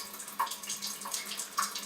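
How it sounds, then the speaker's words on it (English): Water runs quietly from the drainage faucet of an Alkal-Life 7000 water system, a soft, steady trickle with small splashing bursts, faint and close, no voices. "You'll see water is coming out the top as well as this drainage faucet, and that's normal."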